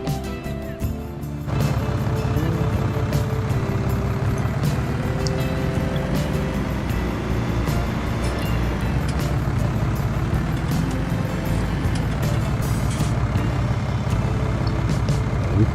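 In Farming Simulator 19, a tractor with a weeder implement turns around, its engine holding a steady, loud drone. A brief quieter moment comes first, then the engine sound continues evenly with faint mechanical whine.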